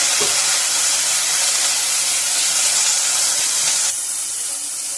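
Tomatoes hiss and sizzle loudly in a hot pan of oil with garlic and green chilli, a broad, steady spray of frying noise that stays close and continuous before easing slightly near the end.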